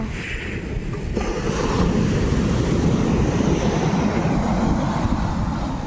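Sea waves wash up on the beach at Pondicherry in a continuous low, rushing surf roar with some wind buffeting the microphone. No voices are heard.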